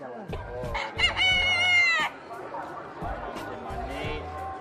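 An Ayam Cemani rooster crows once, a loud drawn-out call, amid background chatter and low rumbling noise.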